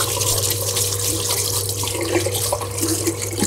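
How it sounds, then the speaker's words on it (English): Pieces of fabric, naturally dyed black with pomegranate, iron and logwood, are rinsed under a running tap. The water flows in a steady, continuous rush with no talking. "I'm going to give them a quick rinse before I move on to the next stage."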